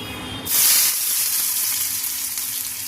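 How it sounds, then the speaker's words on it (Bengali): Bottle gourd leaf pakoras shallow-frying in hot oil over a lowered flame. A loud sizzling hiss erupts as they go in, then settles into a steady, close frying crackle with no voices. "একবারে দুটো করে ফ্রাই করে নিই। স্টিম কিন্তু আমি কমিয়ে করছি যাতে ভালোভাবে ফ্রাই হয়।"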